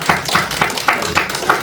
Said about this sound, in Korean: 박수 한번, 박수.